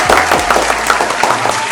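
Applause for reaching one million YouTube subscribers breaks out as a small group claps together, a dense, steady patter of hand claps held close and loud for the whole stretch without anyone talking.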